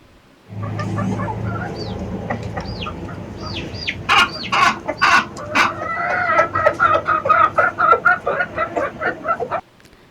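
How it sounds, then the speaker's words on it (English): A hen clucks, starting with low throaty murmurs and breaking into a rapid run of sharp, rhythmic clucks, close and clear with no voices. "Hen,"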